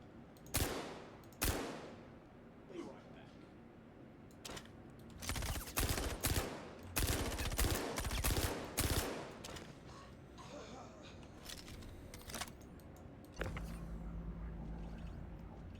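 Bursts of gunfire from a firefight against an enemy in Star Citizen during a bunker run, several loud volleys of rapid shots with pauses between them and ambient game noise.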